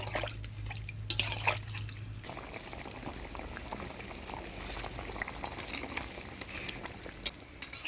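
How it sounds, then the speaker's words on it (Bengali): Fish curry broth with ground spices coming to a boil in a pot: a faint continuous bubbling and simmering with occasional small pops and drips, no voices. "ঝোলের বলক এসে গেছে"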